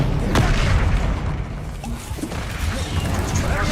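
The Incendio fire spell from the Hogwarts Legacy video game erupts as a loud, dense crash and roar during combat, with a sharp hit near the start and sustained crackling noise afterward.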